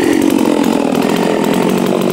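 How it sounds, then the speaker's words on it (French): A Holzfforma G660 chainsaw runs at full throttle, close and loud, with a steady, unbroken buzzing roar throughout. "mets la tronçonneuse devant toi"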